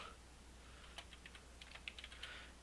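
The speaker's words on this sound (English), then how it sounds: "So just start typing the name." Light typing on a computer keyboard: a short, irregular run of soft key clicks, close but faint, over a quiet room hum.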